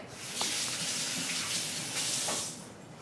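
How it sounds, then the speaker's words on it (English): Hands rinsed under a running kitchen tap: a steady, close rush of water splashing for about two and a half seconds, then tapering off, with no voices. "I'm going to rinse my hands real quick."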